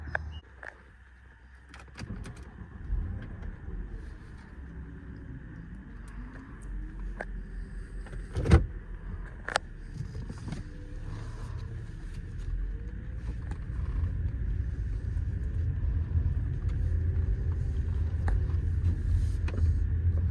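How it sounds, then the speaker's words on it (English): Quiet, smooth car cabin hum as a 2005 Mercedes S500 4-Matic sedan cruises in city driving, low road rumble building gradually, with occasional faint clicks and bumps. "Now we're gonna take it on a brief test drive"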